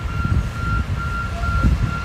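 A truck reversing on a snowy Toronto street gives off steady, evenly spaced backup beeps at a distance, over a low rumble of engines and traffic.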